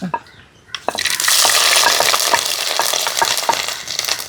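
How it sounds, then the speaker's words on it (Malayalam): After a quiet start, a loud burst of sizzling and crackling erupts as mustard seeds pop and splutter rapidly in hot oil, with sharp individual pops. "കടുക് പൊട്ടട്ടെ."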